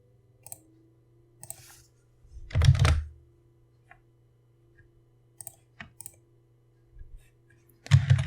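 Scattered computer mouse clicks during map editing, sparse single taps spread across the stretch with one heavier thunk, close and fairly quiet over a low steady hum.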